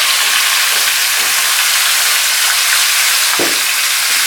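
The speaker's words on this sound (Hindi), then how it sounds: "अब हम इसमें प्याज फ्राई करेंगे" Onions sizzle in a pan after bitter gourds were fried in it for a qeema karela dish, a loud, steady, close frying hiss with a brief stir near the end.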